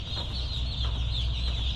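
Dense chorus of baby chickens peeping continuously in a poultry house holding about 240,000 chicks, a steady high-pitched twittering over a low machinery hum.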